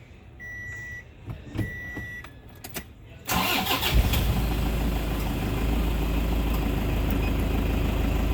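Ambulance engine cranking and starting during a pre-shift check, preceded by two short electronic beeps and small clicks, then settling into a loud, steady idle rumble.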